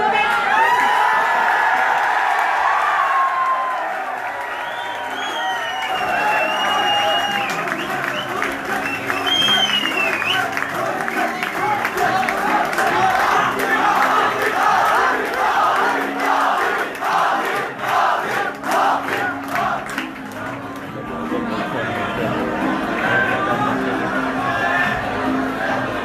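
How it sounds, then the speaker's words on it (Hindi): A crowd at a poetry gathering breaks into loud, sustained clapping mixed with cheers and whoops. The roar swells, holds for most of the stretch, then thins toward the end, with voices mixed into it. "आप सबकी भरपूर तालियों में"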